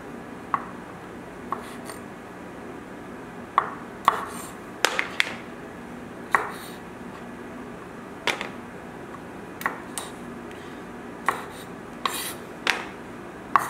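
A knife trimming the ends off green beans on a cutting board at home: sharp, quiet clicks and taps arriving one by one in an irregular rhythm, close and clear over a faint room hum.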